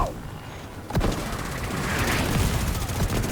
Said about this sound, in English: Those explosions aren't gonna hit you.